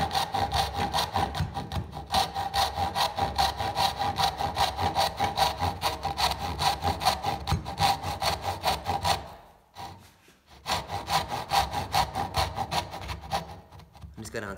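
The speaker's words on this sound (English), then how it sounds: "match the angle of the saw to match the angle of the dovetail" A hand saw cuts a dovetail into wood clamped in a vise, with steady back-and-forth rasping strokes that continue for about nine seconds, a brief pause, then resume.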